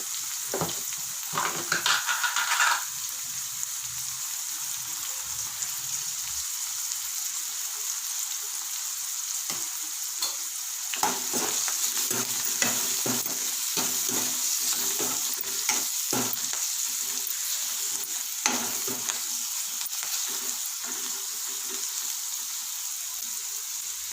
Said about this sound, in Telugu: అల్లం ఎల్లిగడ్డ పేస్ట్ కొంచెం ఫ్రై అయినాయి కదా ముక్కలు